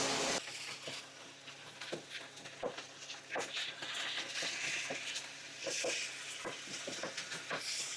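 Two pounds of beef brown in a hot pan of fat, giving a steady sizzling hiss that is broken by repeated scraping and stirring clicks from a utensil. The sound is close and moderately loud, and no one speaks.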